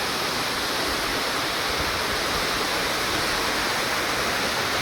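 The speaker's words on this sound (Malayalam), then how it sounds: "വലിയ വെള്ളച്ചാട്ടമല്ല, എന്നാലും" Anjukuzhi waterfall near Erumeli pours in a steady, loud, broadband rush of falling water, constant and close with no voices over it.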